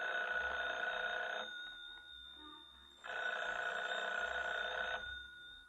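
An old telephone bell rings twice in a radio drama, each ring a long steady trill of about a second and a half with a pause between, heard quietly in a still room.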